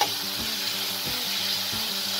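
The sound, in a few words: stir-frying tawa pulao rice and vegetables on high flame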